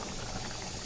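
Mutton biryani simmering in a covered pot, a steady close bubbling and gurgling boil that holds without break and without voices.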